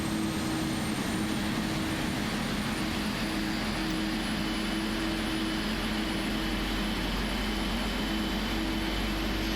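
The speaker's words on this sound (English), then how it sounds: "Then we'll move our fuel control switch to run for engine 1. Oil pressure. And let that engine start up as well." Boeing 777-300ER jet engine spooling up during start in the Prepar3D flight simulator, a steady, loud, unbroken whine and roar with a constant tonal hum underneath, lasting throughout.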